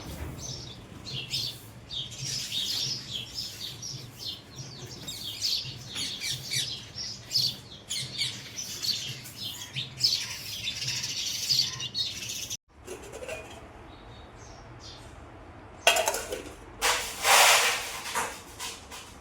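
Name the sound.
birds chirping in the village morning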